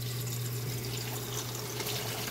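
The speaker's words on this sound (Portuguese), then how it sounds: "Eu estou enchendo a Premium Care de 13 também." Electrolux Premium Care 13 top-load washing machine filling with water, a steady continuous rush and hum of inflowing water running unbroken, moderately loud with no talk.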